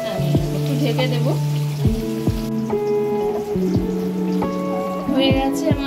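Fish pieces go one by one into a pan of curry with green chillies and sizzle loudly, each drop bringing a fresh burst of crackling spatter over a bubbling bed.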